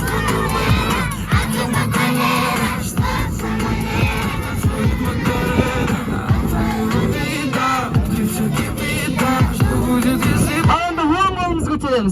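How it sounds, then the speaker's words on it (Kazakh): A large crowd at a Nauryz holiday celebration loudly shouts a song in unison, a dense, continuous roar of many voices with rhythmic surges throughout. "Енді мына өлеңді қаттырақ айқайлап айтуымыз керек."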